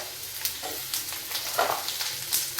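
Capsicum sizzling in hot oil as it is added to a frying pan, with continuous crackling and hissing that swells in bursts as the pieces are stirred, close and loud, no voices.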